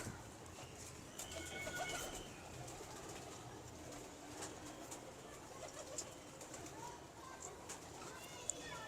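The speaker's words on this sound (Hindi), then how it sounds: "रेशम मुलायम बुने हुए जिस्म का कबूतर है" Anmol-breed pigeons coo softly and intermittently in a loft, low murmuring calls blending with a steady ambient hiss and occasional faint background voices.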